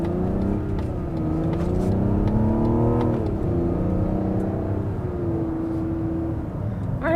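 A Mazda CX-70 SUV accelerating hard in sport mode, its engine note climbing and dropping through gear changes in a steady, loud drone heard from inside the cabin for about seven seconds, with no talking.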